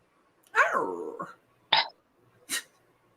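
A dog vocalising close by: a drawn-out whine or howl that bends downward, then two short sharp yips or barks, with pauses in between.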